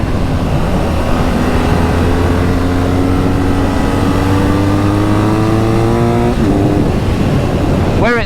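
A BMW R NineT Scrambler motorcycle engine revs loud and steady, its pitch climbing gradually before a quick throttle blip near the end.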